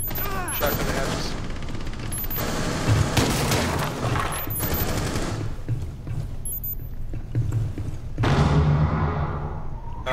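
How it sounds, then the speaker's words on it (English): Shotgun blasts breaking floor hatches in Rainbow Six Siege, a series of heavy booming shots with mechanical clatter between them, loud and close, with a busy background of game noise. "Buck, can you shotgun the hatches?"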